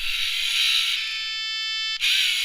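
A line-detecting robot held close to the microphone gives off a buzzy, harmonic electronic tone for about a second over a steady background hiss, then stops.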